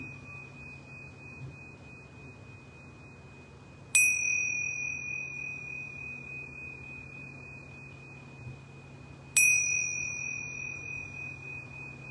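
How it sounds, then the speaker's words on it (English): Yoga bells ring at home in two clear, bright strikes, each leaving a long sustained ringing tone that slowly fades over a quiet room hum; no one speaks. "I'm going to ring these yoga bells 3 times at home"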